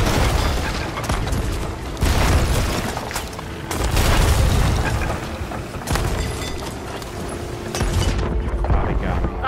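Heavy booming cannon blasts and gunfire in a Sea of Thieves pirate ship battle, repeated loud thumps every couple of seconds over busy game noise, with players shouting over them.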